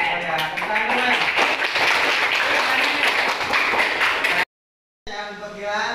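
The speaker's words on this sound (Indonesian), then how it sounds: "Ya, tepuk tangan dulu" Students in a seventh-grade algebra classroom clap together in a loud, steady burst of applause. The clapping stops abruptly, then a few scattered claps trail after a short silence.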